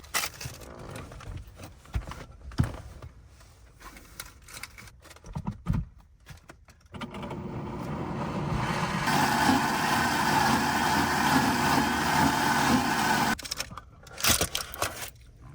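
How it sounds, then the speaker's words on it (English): A countertop blender whirs through ripe bananas and water for a banana smoothie inside a car, a loud steady grinding roar that runs for several seconds after quieter handling noises, then cuts off. "I'm gonna pop this on the blender."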